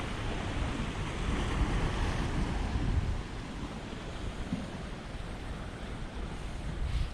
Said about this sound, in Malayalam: ഇന്ന് ഇത്തിരി തിര കൂടുതലാണ്